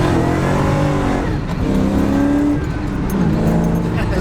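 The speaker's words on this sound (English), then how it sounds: "fuel injected supercharged engine" A 1969 Camaro with a fuel-injected supercharged LS9 engine of about 650 horsepower, heard from inside at moderate speed as a steady, loud, smooth engine drone with some changes in pitch, with a voice talking over it.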